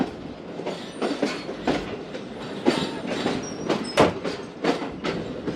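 The Karakoram Express, a locomotive hauling coaches, rolls along the rails with steady clickety-clack wheel beats and a continuous rumble, close and fairly loud, with occasional faint wheel squeals.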